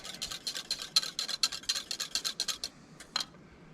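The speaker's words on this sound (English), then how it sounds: "we've got her up to a boil. So we're gonna whisk it really good." Whisk beating sweet and sour sauce at a boil in a pot while winter camping, rapid rhythmic scraping strokes in quick bursts, close and fairly quiet, pausing briefly near the end.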